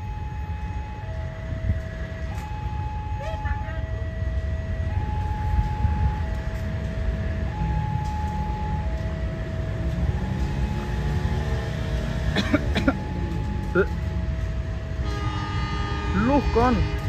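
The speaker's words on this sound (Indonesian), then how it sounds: "ini Kirlok berangkat dari stasiun Lempuyangan persiapan memasuki Balai Asa Yogyakarta" Locomotive CC204-06 hauls CC201-77 11 out of Lempuyangan station in Yogyakarta, a steady low rumble of rolling stock under a rhythmic two-tone electronic signal chime, with a horn-like tone rising near the end.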